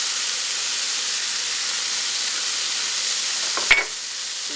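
Black beans and garlic sizzle steadily in a hot pan, a constant close hiss with one brief clatter near the end.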